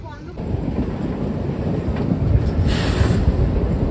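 The Shimla–Kalka toy train in Himachal Pradesh rumbles along just after pulling out of a station. A continuous low rolling roar swells with wind buffeting the microphone, and voices are faintly audible beneath it.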